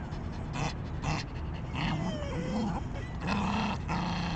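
A Yorkie growls and snarls while attacking a ball, rough low rumbles and panting close up, with small bursts of growling and no talk.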